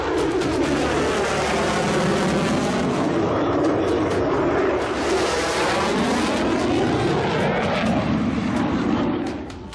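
Fighter jet engine roaring loudly and continuously, a broad dense rumble with a sweeping pitch shift as the aircraft passes, close and powerful throughout.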